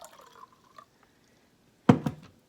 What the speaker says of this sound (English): So I'm gonna pour again water into my container.